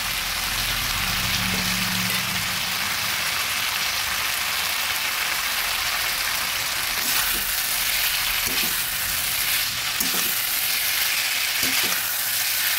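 Taro stolons fry in a pan with a dense, steady sizzle, close and even, broken now and then by the soft scrape and knock of stirring.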